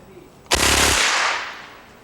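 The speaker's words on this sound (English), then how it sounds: "somebody has altered it so that now it's an automatic weapon" An altered .22 caliber rifle, the kind sold in sporting goods stores, fires a single loud, sharp automatic burst that rings out briefly and then decays into a fading echo.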